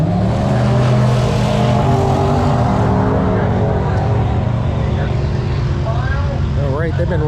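Drag racing cars roar at Drag Week at Numidia, a loud continuous engine rumble filling the air at an outdoor strip, with voices talking over it toward the end.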